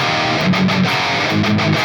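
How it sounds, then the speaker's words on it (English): Electric guitar driven through a Boss SD-1 overdrive pedal switched on, a short burst of thick distorted chords strummed in rhythm, loud and alone. "And with the overdrive on,"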